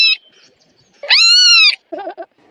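Kitten meowing at night: one clear, drawn-out high meow in the middle, with a short chirp before it and a couple of softer, brief mews after, close and alone in a quiet room.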